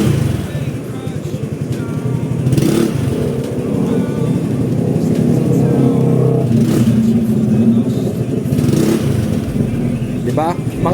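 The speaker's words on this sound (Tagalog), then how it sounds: "Tignan natin kung ilang RPM bago siya umusad." An Easyride 150Q/Fi motorcycle fitted with a Sun Racing clutch and bell idles and revs up close, its engine note rising and falling in repeated pulls while someone talks over it.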